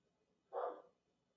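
A single short dog bark, faint and somewhat distant, in a quiet indoor room.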